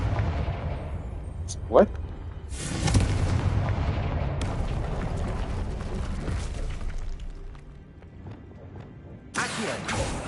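Fiery blasting-spell explosions in a Harry Potter video game: a sharp pop near two seconds, then a broad roaring blast from about 2.5 s that rumbles on, and another burst near the end, with a brief spoken exclamation.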